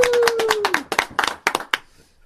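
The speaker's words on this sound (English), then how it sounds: "I'll do a solo clap then." One person gives a short solo clap at an axe and knife throwing session: a quick run of sharp, close hand claps that ends in a few separate, crisp claps before quiet.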